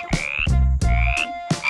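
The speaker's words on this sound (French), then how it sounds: "On commence par les grenouilles." Frogs croaking in a close, loud series of three or four harsh, buzzing calls with a rising tonal whine, each separated by brief gaps, alone with no voices.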